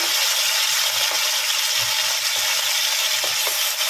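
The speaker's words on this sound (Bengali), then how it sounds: "এই তেলে আমি চিংড়ি মাছটা ভেজে নেব।" Shrimp sizzle and crackle steadily in hot oil close by, a constant bright hiss with occasional small pops and no talking.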